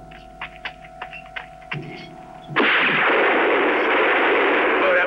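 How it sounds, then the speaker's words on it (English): Sustained burst of gunfire from a spaghetti western shootout, loud and continuous after a brief stretch of quieter sounds, with a few shouted voices early on. "start shooting, man. We gotta get him."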